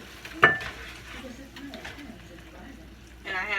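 Browned ground meat gets scooped from a pan into a pie pan with faint sizzling, a sharp scrape or clink of the utensil, and soft stirring sounds, quiet and close, with a voice speaking over it.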